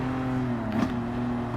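A BMW M2 Competition on soft sports tires in Gran Turismo 7 lapping Brands Hatch: a steady engine drone at a constant pitch with a slight surge partway through, heard alone without talk.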